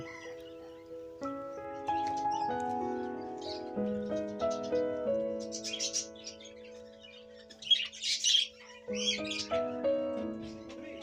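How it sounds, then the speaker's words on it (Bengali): Foreign birds at Jhilli bird sanctuary in Gopiballavpur give brief high chirps and calls in a few bursts, mostly over steady background music. "সংরক্ষণ করা কিছু বিদেশি পাখি দেখলাম"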